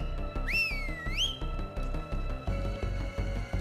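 A rising and falling two-note whistle in Far Cry 5, sounding once over a steady game soundtrack with rhythmic low thumps underneath.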